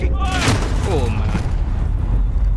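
Gunfire in a video game team deathmatch, dense bursts of shots and booms loud under a speaking voice, with chirping effects layered over steady low rumble.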